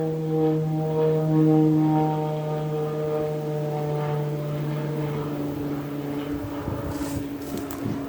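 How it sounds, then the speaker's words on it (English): A propeller airplane passes near Biggin Hill airport, a loud droning hum with steady tonal pitch that slowly shifts, heard outdoors along a walk with no talk. "we're near Biggin Hill because there is a plane"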